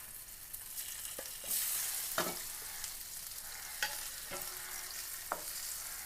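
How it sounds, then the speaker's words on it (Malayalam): Pieces of karimeen (pearl spot fish) coated in pepper, chilli, turmeric and salt fry in a pan with a soft, steady sizzle, broken by a few sharp crackles and spits. "ഒരു കരിമീൻ്റെ ഒരു കഷ്ണവും ഈ രണ്ട് കഷ്ണവുമാണ് വറക്കുന്നത്"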